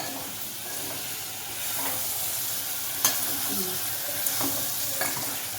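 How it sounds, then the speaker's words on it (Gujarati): Cluster beans hitting hot tempering oil in a home kitchen sizzle steadily, with scraping stirs and occasional soft clinks of a utensil against the pan over a continuous frying hiss. "મમ્મી ગવાની શાક વઘારી"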